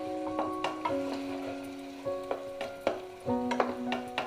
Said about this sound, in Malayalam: എല്ലാം കൂടി നന്നായിട്ടൊന്ന് മിക്സ് ചെയ്യണം.